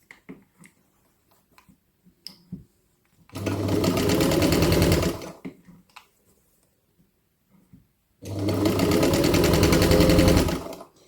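An old Husqvarna sewing machine with a noisy motor runs in two loud, close bursts of about two seconds each, a harsh rattling whir, separated by near silence with faint clicks.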